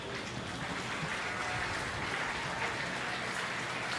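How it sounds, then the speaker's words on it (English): Steady round of applause from the audience at a county 4-H sheep show for the junior exhibitors, a broad, even wash of clapping from a crowd that sounds somewhat distant. "Junior exhibitors a nice round of applause"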